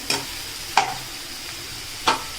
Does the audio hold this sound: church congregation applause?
no